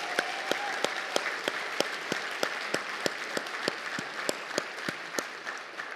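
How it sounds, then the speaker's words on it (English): An audience at an opening session applauds the Griffin Squadron after a logistic support demonstration, with steady sustained clapping from a large crowd, individual sharp claps standing out over the dense wash. "can I get a round of applause for the Griffin Squadron for that excellent demonstration of logistic support?"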